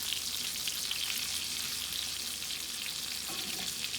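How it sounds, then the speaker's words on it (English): Brined pork chops fry in hot oil in a pan, giving a steady, dense sizzle and crackle that runs unbroken and fairly close, with no talking. "I'm gonna put this guy in the oil."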